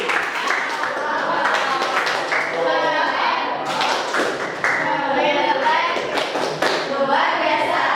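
Classroom of students clapping in appreciation, a dense, steady patter of many hands lasting several seconds, with children's voices and talk mixed in underneath.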